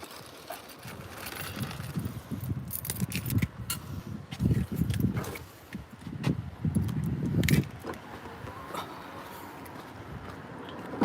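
Car keys jangle and clink close by for several seconds amid rustling and handling noises outdoors beside a car, with irregular metallic bursts and no talking.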